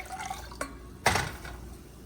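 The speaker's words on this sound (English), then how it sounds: "you're gonna start a new pot, about medium size, and you're gonna add 3 cups of water" Water splashes into a medium-size cooking pot in a short, quiet burst, with a softer drip just before it.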